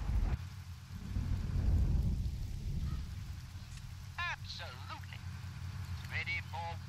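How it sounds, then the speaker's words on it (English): Rain and rumbling thunder in the PC war strategy game Blitzkrieg Rolling Thunder: a low, swelling rumble rolls through the first seconds over a steady rain wash, with short game voice and sound-effect chirps following later. "Is it ever gonna stop raining?"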